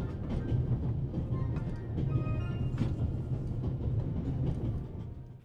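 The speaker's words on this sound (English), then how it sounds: "The train still sounds a bit loud." Train rumble from the video game The Raven: Legacy of a Master Thief, a steady loud low-pitched clatter with faint metallic ringing tones on top, continuous throughout and easing off slightly at the very end.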